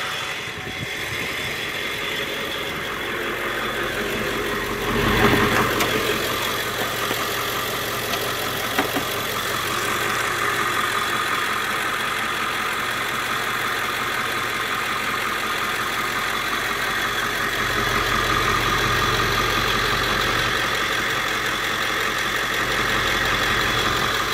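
A 7.3L Powerstroke diesel engine in a 1999 Ford E450 4x4 van idles steadily for a long stretch, a low continuous rumble with slight vibration and no voices.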